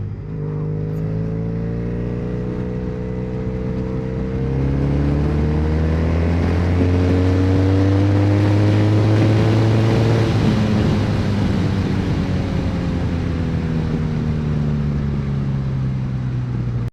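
A Triumph Bonneville SE 865 motorcycle engine runs on an open road. It hums steadily and loud throughout, its pitch rising smoothly as the bike accelerates and then easing back down. No voices are heard.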